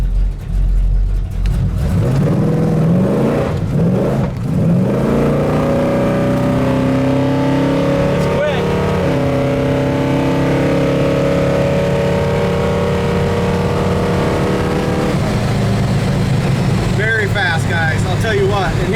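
A 1970 Pontiac GTO muscle car idles with a lopey exhaust note, a steady low rumble running throughout with a brief rise in revs near the start, while people talk over it.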